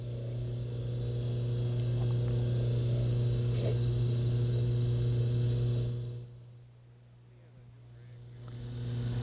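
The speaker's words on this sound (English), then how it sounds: "We have a new rag wheel on the lathe, and we'll place some Bendix on it, which is a polishing agent for plastic" A dental lab lathe spins a new rag wheel loaded with Bendix plastic polishing agent, giving a steady loud motor hum and whine that drops off sharply near the end before rising again.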